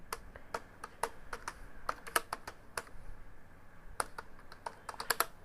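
Fingers tap a computer keyboard in a quick, irregular run of sharp close clicks, with short pauses between bursts and no talking.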